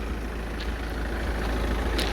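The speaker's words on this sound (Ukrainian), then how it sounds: "Заведений двигун, бачите, вже така оптика." A 2017 car with a 2-litre diesel engine idling at a used car market, a steady low rumble with faint higher clatter, no talk over it.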